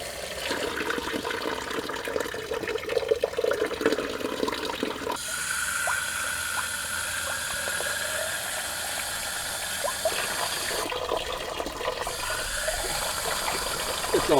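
Water is flushed through a hose in the cooling system of a 1999 Chevy Metro, a constant close rushing and gurgling stream with abrupt shifts in tone as the flow changes.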